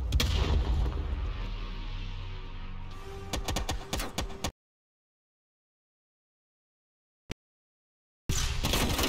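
A heavy blast and booming gunfire in Call of Duty Black Ops Cold War, loud and rumbling for several seconds before cutting to silence, then a single sharp crack and another loud burst.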